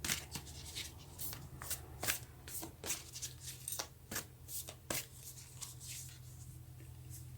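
A tarot deck is shuffled by hand before a reading, giving close, crisp bursts of riffling and snapping cards in an uneven rhythm with no talking.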